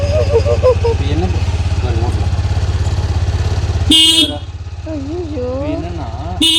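A TVS Jupiter hybrid scooter engine idles with a steady, close, low drone while someone talks over it, and a short horn-like toot briefly rises near the end.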